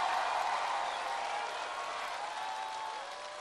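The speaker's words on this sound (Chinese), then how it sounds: "也把掌声送给所有的乐手老师们，" Steady applause from a television studio audience, thanking the band musicians after a song, holds as an even, distant wash for a few seconds and fades gently.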